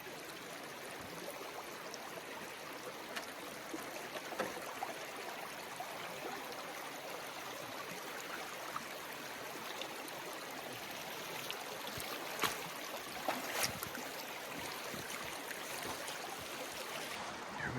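Water rushing through a gold prospecting sluice over gravels, a steady, moderately faint broadband gush with small splashes and knocks, no speech.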